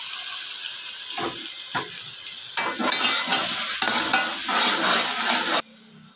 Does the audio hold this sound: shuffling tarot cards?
no